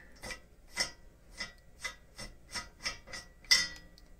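Rivet nut tool being unscrewed by hand, a series of about eight evenly spaced rasping, ratcheting turns, close and fairly quiet.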